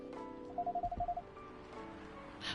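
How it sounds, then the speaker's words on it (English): A phone in the Coffee Talk video game buzzes with incoming texts: a quick run of about eight short, even vibration pulses, moderately loud over a quiet background hum, then stillness. "his phone keeps blowing up. He's getting some types of texts."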